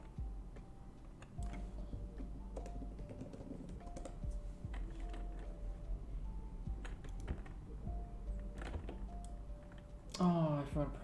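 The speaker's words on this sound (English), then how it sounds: "I've got a loud keyboard, so I don't want to keep it too close" Fingers clatter on a loud computer keyboard in a rapid, uneven run of clicky keystrokes close to the microphone, with a brief louder burst near the end and no talk.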